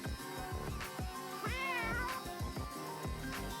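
A cat meowing in the video game Walkabout Mini Golf, one clear rising-and-falling meow heard over steady background music with a thumping beat.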